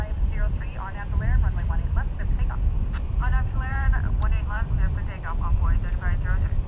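A steady, loud roar of jet airliners fills the air at DFW International Airport, continuous and broad beneath people talking over it throughout.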